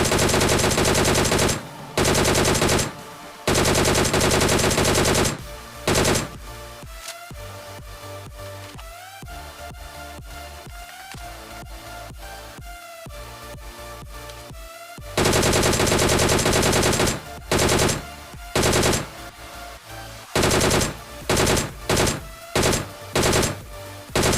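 Loud bursts of rapid automatic gunfire in BGMI (Battlegrounds Mobile India), long sustained volleys broken by short pauses, then more repeated bursts toward the end.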